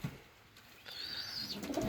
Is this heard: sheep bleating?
no